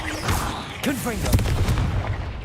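Confringo fire spell blasts in the Hogwarts Legacy video game, booming bursts with whooshing swirls inside a cave, layered over continuous game music and effects, loud and close throughout.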